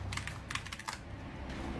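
Rapid bursts of computer keyboard typing during an Elden Ring typing game, a cluster of quick keystrokes followed by a brief pause and a few more taps, close and crisp over steady game background noise.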